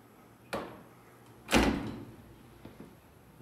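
Gate door operator on a gated Otis/Schindler elevator running on a standard GAL operator, giving two sharp clunks a second apart followed by softer mechanical rattles, close and without talk.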